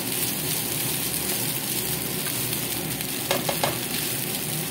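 Rice stir-fried with garlic in a pan for Filipino fried rice, a steady loud sizzle with scraping stirs and a few sharp clacks near the end, no talking.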